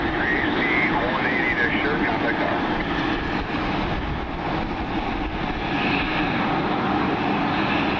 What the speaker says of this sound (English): American rolling out on the runway.